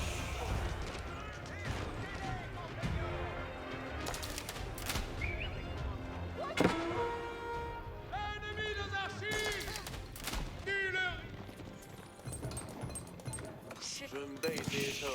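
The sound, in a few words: cannon and emplacements firing in video game Age of Empires 4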